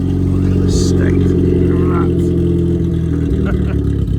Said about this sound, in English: It's still very loud because of this exhaust.